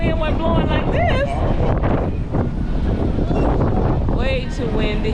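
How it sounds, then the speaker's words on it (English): Strong wind in Curaçao roars and buffets the microphone steadily, with voices talking underneath the rushing gusts. "Way too windy."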